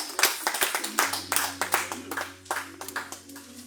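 A church congregation breaks into clapping in praise at a service, a dense run of sharp claps with a few voices mixed in.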